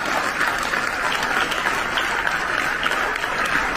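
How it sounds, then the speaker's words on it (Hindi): An audience at a felicitation ceremony for Tokyo 2020 Paralympic medal winners breaks into loud, continuous applause, thick overlapping claps with a faint crowd murmur underneath. "सभी जोरदार तालियां बजाएंगे"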